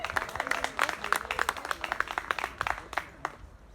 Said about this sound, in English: round of applause for all of y'all showing out